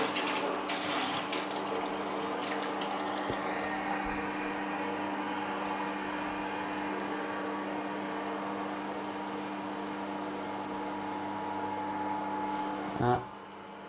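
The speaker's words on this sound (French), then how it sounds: "Je vais ouvrir ce robinet-ci." Water runs steadily from an opened tap on a well-water filtration kit, a constant hiss and flow that carries on for many seconds, ending with a short clunk near the end.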